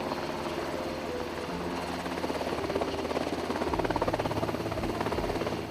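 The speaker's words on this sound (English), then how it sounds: "the MH-60S, a helicopter used in demanding maritime operations" An MH-60S helicopter drones steadily, its rotor thumping grows slightly louder and more pronounced toward the end, no voices.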